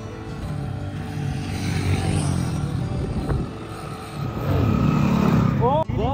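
A motorbike rides past on a road near Akhnoor Fort in Jammu and Kashmir, its steady engine drone rising and growing louder toward the end, with rushing wind noise.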